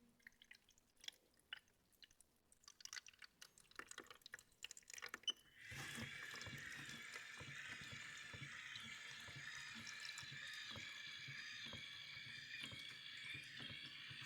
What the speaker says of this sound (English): So I start pouring the chemistry.